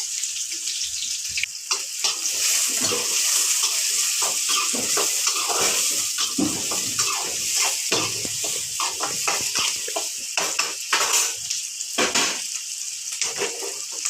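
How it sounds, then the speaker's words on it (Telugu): Onions sizzle in hot oil in a pan while being stirred. A loud, close frying hiss is broken by repeated scraping and clattering of a utensil against the pan. "బాగా వేడైంది నూనె అయితే ఉల్లిగడ్డలు కూడా వేసేస్తున్నా ఉల్లిగడ్డలు అయితే ఒకసారి కలిపేస్తా"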